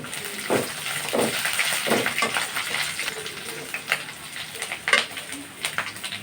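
Onion, garlic and slit green chilies fry in a pan, giving a soft sizzle broken by clinks and scrapes of stirring and a few louder knocks, fairly quiet throughout.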